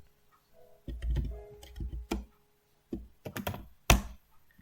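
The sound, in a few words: typing a Linux shell command on a computer keyboard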